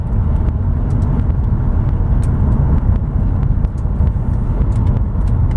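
A 1949 Chevy Deluxe Coupe mild custom with its Big Six engine cruises a road with windows open, a steady loud low rumble and road roar filling the cabin throughout, with no talk.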